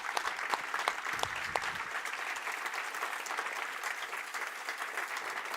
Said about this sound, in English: And also this applause is to everybody at Røverstaden